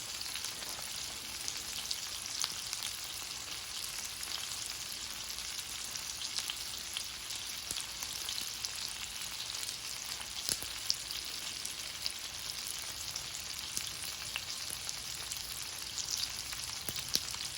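Surf and turf fries in a pot with a steady, dense sizzle that holds evenly throughout, close by and with no voices.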